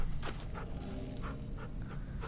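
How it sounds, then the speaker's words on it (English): A dog pants softly with faint whimpers in The Walking Dead game, quick breathy huffs repeating in a steady rhythm, quiet and close, with no talking. "He's a good doggy."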